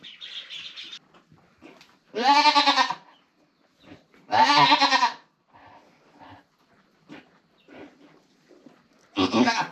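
A Nigerian Dwarf goat in labor gives three loud, strained bleats spaced a couple of seconds apart, with quieter shuffling and faint sounds between them.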